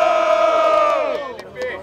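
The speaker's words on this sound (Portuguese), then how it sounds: "Menezes e Bold, quem gostou das rimas dos mano faz barulho aí" Crowd at a Brazilian rap battle cheers and shouts loudly in a sustained roar for a vote between rounds, the noise holding steady and then thinning out with a few scattered yells near the end.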